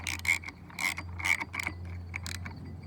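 Transmission part on a Honda Dio Elite 50 scooter with a ZX CVT swap catching on its teeth: a quiet, close series of sharp mechanical clicks and creaks in uneven bursts over a low steady hum.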